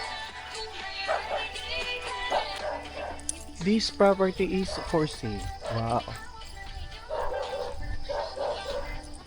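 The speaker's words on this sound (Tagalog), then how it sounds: "Mayroon na naman aso." Several dogs bark and yip in a burst near the middle, with someone talking over them on a roadside trip in the Philippines.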